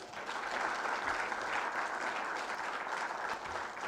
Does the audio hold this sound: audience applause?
yes